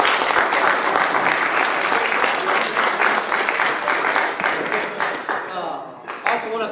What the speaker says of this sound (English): I think the wrestlers should give you a round of applause with me for that